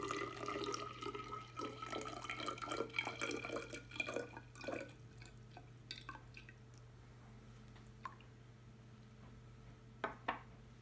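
Water splashes and trickles into a measuring cylinder for several seconds, then tapers off to a few scattered drips against a low steady hum.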